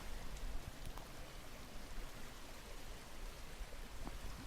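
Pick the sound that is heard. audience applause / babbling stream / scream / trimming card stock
babbling stream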